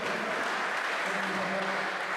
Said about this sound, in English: Next, give Sakash a round of applause for all our students.